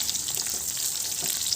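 Onions and a couple of green chillies frying and being stirred in a pan, a steady close sizzle with faint scraping strokes throughout, no voices.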